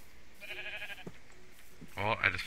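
Sheep in the Minecraft video game let out a few short bleats, one early and a louder one near the end, with a person talking in between.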